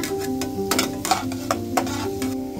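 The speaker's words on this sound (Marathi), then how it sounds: "आता हा लसूण टाका आणि परतून घ्या" Onion and garlic sautéing in oil in a pan, a steady sizzle with repeated scraping stirs of a spoon against the pan, close and clear, no talking.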